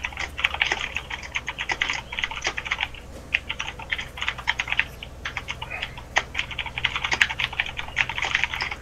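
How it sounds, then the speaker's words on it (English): Steady computer keyboard typing, close and continuous, with rapid irregular key clicks and occasional heavier keystrokes, no voices. "I can just hear typing."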